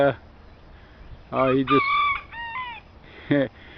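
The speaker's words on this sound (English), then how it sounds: "That's him crowing, that little guy." A banyan rooster crows a couple of times nearby on an organic farm, a short strained cock-a-doodle-doo with harmonic squawks, between quiet pauses.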